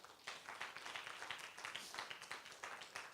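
A church congregation applauds: steady, dense clapping from many hands, faint and somewhat distant, continuing evenly for a few seconds without speech.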